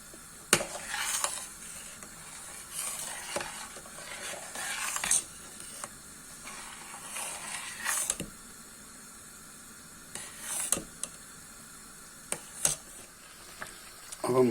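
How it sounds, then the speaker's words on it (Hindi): A spoon stirs gajrela, a carrot pudding, in a pan over a medium flame, giving soft intermittent scraping and swishing strokes with a faint sizzle, close and fairly quiet. "इस मौके पर आप इसमें मुसलसल चमचा हिलाते रहें।"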